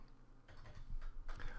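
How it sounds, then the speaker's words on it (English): A few quiet key taps on a computer keyboard as numbers are typed, coming in two small bursts over a low background hum. "Again, I prefer typing in the numbers."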